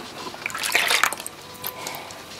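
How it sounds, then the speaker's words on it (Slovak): Whipping cream poured into a bowl, a short liquid trickle and splash lasting about a second, close and moderately loud, fading to faint dribbles afterward. "potom si môžeme do ďalšej nádoby, do nejakej misky naliať smotanu na šľahanie"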